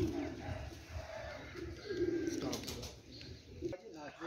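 Lakha pigeons coo in soft, repeated throaty phrases at close range, mixed with a low bustle of other birds and faint background voices.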